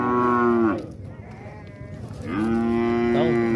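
A cow at a cattle fair in Venturosa, Pernambuco, gives two long, loud moos close by, separated by a pause filled with low crowd and yard murmur.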